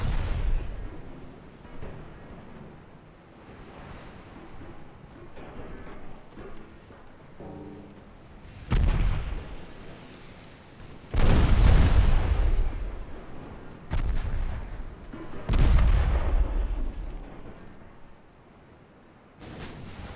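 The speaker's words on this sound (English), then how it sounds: "It might be the strange guns just firing off too much." Heavy guns roar from a WWI-era naval battle in a 1917 French campaign game, with several deep booming salvos around the middle and later part, rising over a low rumbling background.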